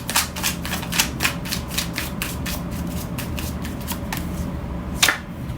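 Tarot cards being shuffled and drawn at close range, a rapid run of crisp riffling flicks and snaps repeating steadily, ending with one sharper slap.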